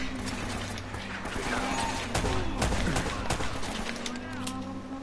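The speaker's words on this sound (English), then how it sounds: "we'll save the AK ammo and we'll use the pistol" Pistol shots crack in quick succession in Uncharted: Drake's Fortune, a steady run of sharp reports over a busy game backdrop with voices mixed in.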